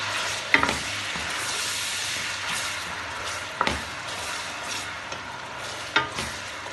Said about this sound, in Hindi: इसको अच्छे तरीके से हमने हिला लेना मज़ीद, ताकि ये अपना रंग बदल ले